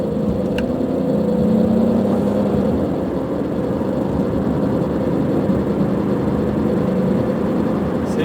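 A 2003 Chevy Impala sedan cruises along a road at about 50 mph, its steady engine hum and road noise droning continuously from inside the cabin, loud and even with no voices.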